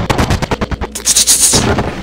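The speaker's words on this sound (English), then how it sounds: "I just accidentally threw a grenade." Gunfire and a blast in the video game Black Ops: a quick run of sharp, loud shots, then a hissing, bright burst that fades out, heard close and dominant with no talking.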